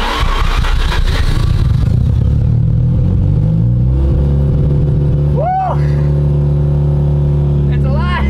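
An engine cranks with sputtering low rumble, then catches and settles into a steady idle, with a couple of sharp rising revs near the end.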